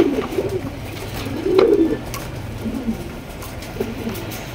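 Pigeons coo in a low, soft, repeated murmur, including a black shaking pigeon kept for sale, heard close over faint background noise.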